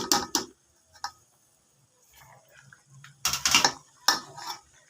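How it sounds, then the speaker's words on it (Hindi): Boiled mango pieces tipped into sugar syrup in a cooking pot for aam murabba, giving a few scattered metallic clinks and clatters against the pot, close and moderately loud, with quiet gaps between them. "अब आपने इसमें ये जो बॉयल किए हुए ये आम है आपके, ये आप इसमें आपने डाल देने हैं"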